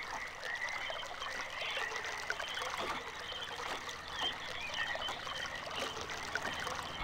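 Water trickles and gurgles steadily through pipes in the video game realMyst's Channelwood, a faint, continuous rushing flow with soft splashy ripples and no talking.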